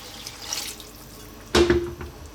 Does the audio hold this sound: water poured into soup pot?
yes